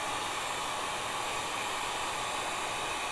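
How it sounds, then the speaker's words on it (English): A hair dryer blows steadily, a constant loud rushing whoosh of air with no breaks for the whole stretch. "So I'm using a blow dryer to help it dry faster."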